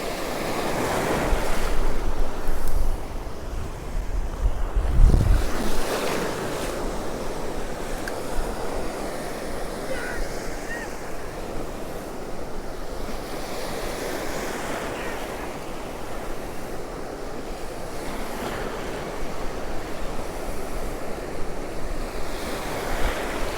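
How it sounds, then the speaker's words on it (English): Powerful sea waves break on Cromer beach, a broad roar of surf with surges and heavy wind buffeting the microphone, loud and continuous with one sharp thump near the start. "Oh, it's powerful, that sea."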